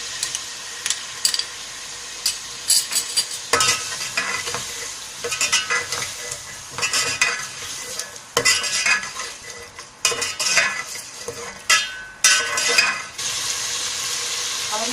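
Chicken frying with ginger garlic paste in a pan for Sindhi biryani, steady sizzling with a spoon or spatula stirring and scraping against the metal throughout, loud and close, no talking.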